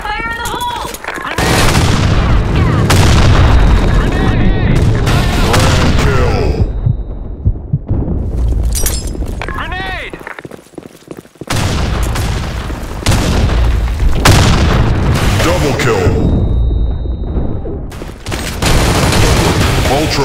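Grenade explosions and gunfire rage nonstop in the team-deathmatch shooter game BlackShot, heavy booms layered over rattling automatic fire, loud and dense, while a game announcer's voice calls out kills and grenades.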